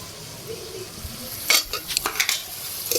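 Amla pickle with jaggery being stirred continuously in a pan, a soft low background of scraping that turns into several louder utensil scrapes and clinks in the second half, with no talking.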